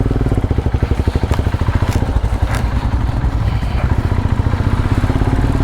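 Motorcycles ride off together on a trip to Jadura Hills, a loud, close engine with rapid pulsing exhaust beats and some clatter, running steadily without talk.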